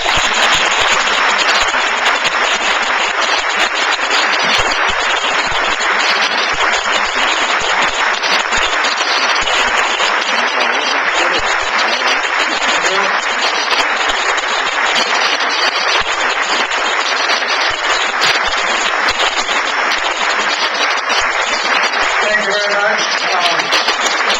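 A large audience applauds loudly and continuously after an academic speech on the Armenian genocide, a dense, sustained roar of clapping that lasts the whole time.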